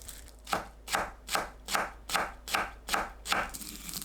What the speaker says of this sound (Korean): 돌돌 말아 썰면 편하게 파채를 만들 수 있습니다